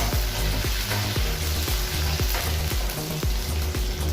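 Onion, garlic and bay leaf sauté in hot oil for beef mechado, a loud continuous sizzle with a steady run of rhythmic stirring scrapes, about one every third of a second, and no voices.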